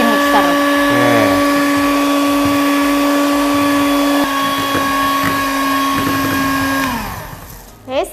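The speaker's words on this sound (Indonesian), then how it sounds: "kita mulai masukkan gula halusnya secara perlahan sambil tetap di mixer" A hand-held electric mixer whirs loudly and steadily as it beats dough while powdered sugar is slowly added, its pitch sliding down near the end as it slows and stops.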